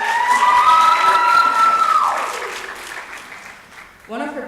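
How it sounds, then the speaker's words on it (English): An audience at a high school senior choir concert applauds and cheers loudly, clapping steadily, then fading; a voice begins speaking at the end. "Can I get a round of applause for that?"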